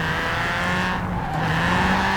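Car tires squeal in a loud, continuous drift skid under a roaring engine in a racing video game, the car a Toyota AE86, with the screech staying steady throughout.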